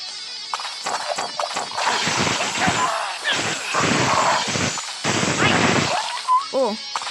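A star-scattering skill fires in the game League of Stickman, a run of punchy, crashing bursts in quick succession, ending with a short warbling chime effect.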